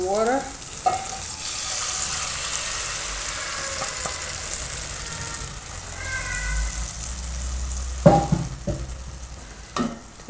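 Curry in a pan sizzles and fries as water is added, a hissing crackle running throughout with stirring clinks, a cat meowing at moments and some background noise.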